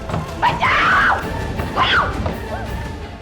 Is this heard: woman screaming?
yes